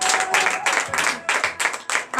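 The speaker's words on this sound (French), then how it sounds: "Donnez de l'acclamation à l'Éternel" Worshippers at a Beninese morning prayer gathering clap and shout acclamations to God, bursts of applause and cheering voices pulsing in waves, loud and near.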